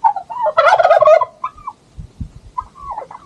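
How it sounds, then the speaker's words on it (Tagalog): Turkeys gobbling on a nature camp trail in Tanay, Rizal, in a loud, rapid rattling burst followed by fainter calls and low footsteps outdoors. "Habang naglalakad ka rito may pabo."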